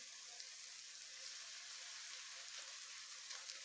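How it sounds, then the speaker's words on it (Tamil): Pieces of nendran banana fry in hot oil, giving a steady, continuous sizzle with faint crackles and pops throughout, alone with no talking. "அந்த எண்ணெயில் பொரியும்போது நல்லா கிறிஸ்பாகிடும்."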